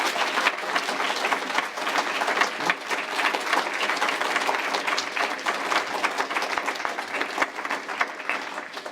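Sustained applause from an audience at a reunion, a dense even wash of many hands clapping that continues steadily and loudly throughout without fading.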